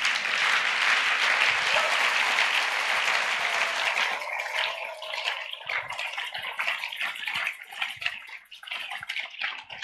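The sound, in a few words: church congregation applauding in worship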